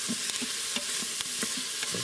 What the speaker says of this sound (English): Now give it a few stirs.